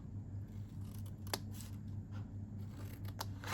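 Scissors snipping the tab of a paper birthday-cake treat box made from a kit: a few crisp, close cuts scattered over a quiet background.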